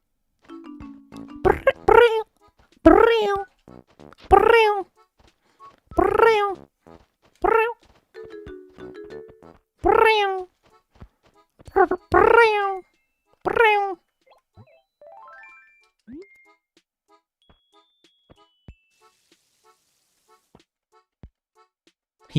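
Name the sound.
person imitating cat noises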